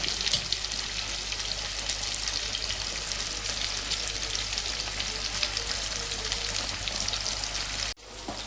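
Fish pieces fry in oil with a steady, dense sizzle and crackle that holds constant throughout. The sound breaks off briefly near the end.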